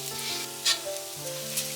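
Garlic and a little ginger fry in hot oil as the base for keema peanut chowmein. The steady, close sizzle carries a few sharper hissing bursts over soft background music.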